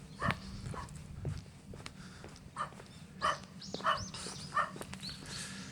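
A dog barks faintly and far off in a quiet rural farming village in Changnyeong, South Korea, giving a few scattered yelps over a steady background hum with no talking.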